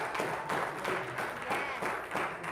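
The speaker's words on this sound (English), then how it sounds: "Sisters, that's when you're supposed to applaud the loudest." An audience applauds at a talk in Baltimore, with steady, dense clapping at moderate volume throughout and no pauses.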